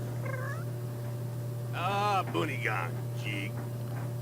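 A cat meowing in The Sims 3 game, a couple of drawn-out, wavering meows in the middle of the clip over a constant low electrical hum, with faint voice-like sounds around them.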